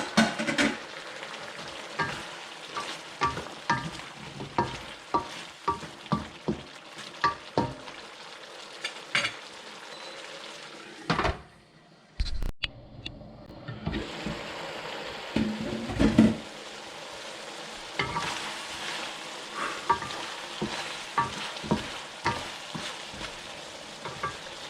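Carrots being stir-fried for chop suey sizzle loudly in a hot pan, with repeated scraping stirs, a short quieter pause midway, and then continued crackling frying.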